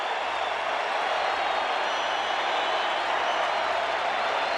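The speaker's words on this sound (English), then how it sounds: "And listen to this crowd, and Guardado hasn't thrown a pitch yet." A baseball stadium crowd at a Chicago White Sox game against the Minnesota Twins roars and claps in a steady, dense wash of noise that never lets up.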